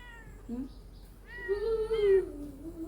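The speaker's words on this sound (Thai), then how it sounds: "เราได้ยินเสียงของแมว" A kitten meows a few times, a short call followed by a longer, rising and falling meow, close by over a faint background murmur.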